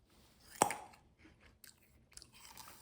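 Raw cranberries crunched between the teeth: one sharp, close bite near the start, followed by quieter, irregular chewing with faint crunches and mouth noises.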